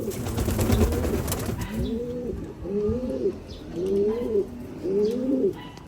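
A breeder pigeon hen gives a series of soft, low cooing calls, about four evenly spaced rolling coos, close by, after a brief rustle at the start.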